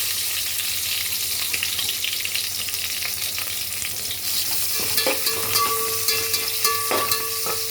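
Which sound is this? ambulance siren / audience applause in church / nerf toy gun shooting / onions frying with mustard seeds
onions frying with mustard seeds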